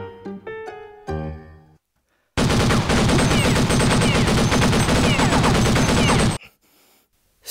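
Gunfire in a period costume drama scene erupts as one loud, rapid, unbroken burst of shots lasting about four seconds, following a few plucked musical notes and a short silence.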